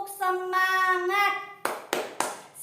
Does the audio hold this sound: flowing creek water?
no